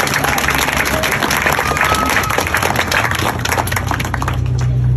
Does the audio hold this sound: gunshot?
no